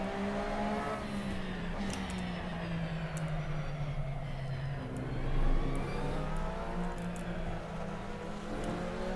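Porsche 911 RSR race car in the Assetto Corsa racing game, its engine droning steadily and rising and falling in pitch as it accelerates, with another car's engine nearby.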